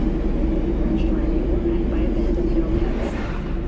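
A steady low rumble and hum of an airtrain riding from Santo Domingo to Watson in the video game Cyberpunk 2077, constant throughout with a few faint higher clicks, while an announcer speaks over it.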